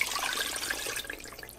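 Water is poured into an 8-quart Instant Pot, a steady splashing rush that thins toward a lighter trickle near the end, faint and close with no talk.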